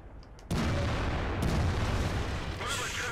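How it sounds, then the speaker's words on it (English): Artillery fire in World of Tanks: sudden heavy booms land, a broadband blast swelling and rumbling on for a few seconds, with a second impact following, mid-distance and fairly loud. "Looks like some artillery is coming in to us as well."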